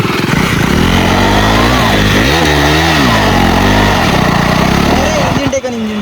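A motorbike engine revs loudly and steadily up close, its pitch rising and falling in several surges with an uneven throttle, while a person talks over it.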